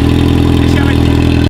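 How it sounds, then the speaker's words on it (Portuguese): A Yamaha XJ6 motorcycle engine idles steadily after starting, a close, continuous low rumble with even mechanical pulsing throughout, no voices over it. "Enquanto isso, eu já vou ligando a moto"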